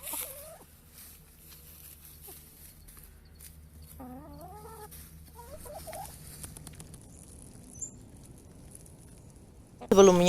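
Black Australorp chickens cluck and chirp in short, scattered calls over steady low background hum, with a louder burst of noise at the very end.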